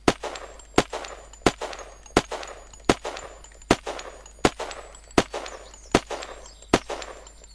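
Rapid gunfire from guns in Unturned with a vertical grip fitted, ten sharp, evenly spaced shots about three quarters of a second apart, loud and close, with no talking over them.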